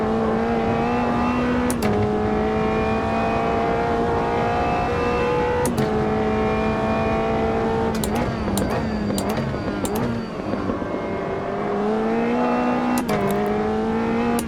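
A Caterham race car engine in the racing game Automobilista 2: a loud, sustained engine drone rising and falling through repeated gear shifts, with a voice talking now and then over it.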